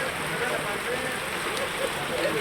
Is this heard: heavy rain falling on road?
yes